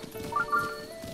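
Horse hooves clip-clopping in the video game Zelda: Breath of the Wild, a short run of soft, steady steps at moderate level, with faint game music or ambience underneath and no voice over the steps.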